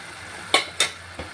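Eggs dropped into a pan of masala for egg curry give three quick, close frying splashes, each a sharp hiss that fades fast over a faint background.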